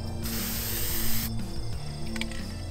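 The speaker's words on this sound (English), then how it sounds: "I'm gonna do my best to spray for exactly 1 second on each of these spots." Generic aerosol spray paint hisses in one loud, steady burst of about a second, with mechanical clicks and rattles of the can around it.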